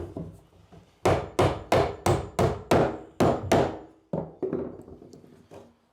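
Hammer driving nails into summerhouse floorboards: about eight sharp, evenly spaced wooden blows close up, followed by a few lighter, quicker taps.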